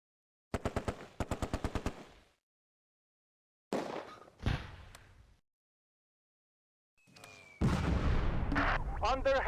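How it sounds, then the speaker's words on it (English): Gunfire and artillery from the WWII strategy game Close Combat A Bridge Too Far, with rapid machine-gun bursts, a few sharp single shots and booming blasts separated by silences, ending in sustained heavy firing. "Under heavy fire."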